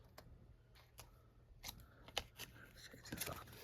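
Scissors snip off the edge of a soaked, glued paper page in a few short cuts, close up and quiet, with faint rustling between the snips.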